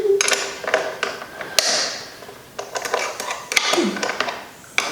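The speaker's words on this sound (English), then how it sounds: "Use a ratchet wrench if you got one." Ratchet wrench working the mirror block-off bolts on a 2020 Yamaha R1: repeated close, crisp clicking and creaking bursts of ratcheting with short pauses between strokes.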